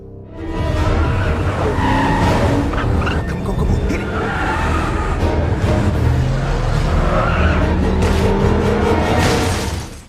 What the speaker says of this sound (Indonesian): aksi kejar-kejaran mobil yang cukup menegangkan dan masuklah ke suatu gang